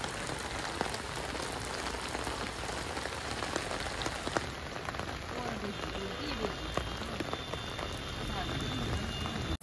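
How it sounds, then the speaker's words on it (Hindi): Heavy rain pours steadily during a trek near a waterfall on the Triund trail, a dense continuous hiss of drops on surfaces with scattered louder splats, fairly close and unbroken throughout. "बारिश थोड़ी सी तेज हो गई है, हम निकले ही थे और बारिश होने लग गई है"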